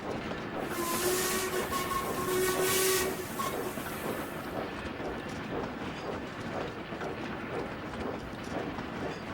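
A steam train whistle sounds in a couple of long blasts over a hissing, chugging locomotive, then the train keeps rumbling along steadily.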